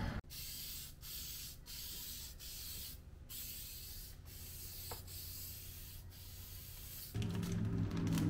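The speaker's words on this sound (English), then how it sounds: "So I'm gonna spray this last coat, but it does look really good at this color." Plastic dip sprayed from an aerosol can onto a car bumper, a drift E36, in a run of close hissing bursts with brief gaps between them, ending in a louder, rougher burst, with no talking.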